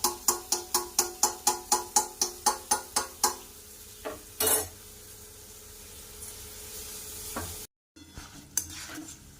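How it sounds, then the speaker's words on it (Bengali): Batter drops for a Bengali sweet frying in hot oil, opening with a steady run of about a dozen rhythmic stirring taps, then giving way to a continuous close sizzle broken by a few scrapes and a brief drop-out. "আর একটু উপরে ভাজতে থাকবো।"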